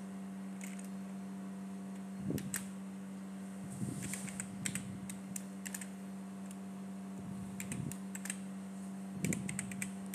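Quick bursts of keystrokes on a computer keyboard, tapped in short irregular runs at close range over a steady low fan hum, with no voices.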